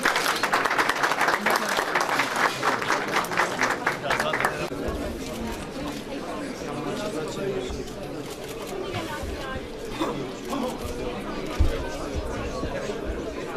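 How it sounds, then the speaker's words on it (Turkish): Applause from an audience at a public ministerial event in Sivas, Turkey, dense clapping and crowd chatter filling the room, loud at first and then settling into a steady, slightly quieter wash of clapping and murmuring voices. "Alkışlar efendim, alkışlar gelsin."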